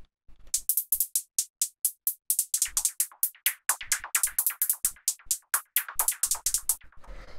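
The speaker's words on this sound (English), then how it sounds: "What it is it's just a short white noise." Rapid bursts of short white-noise synth hits in a quick rhythmic pattern, each sharp and crisp with a fast decay, like electronic hi-hat percussion in minimal house music.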